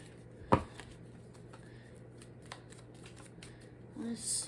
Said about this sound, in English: I'm gonna have to get some more of these cards because I'll be shuffling.